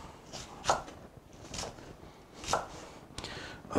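Knife chopping onions on a board, a handful of crisp, irregular cuts at close range over quiet room tone.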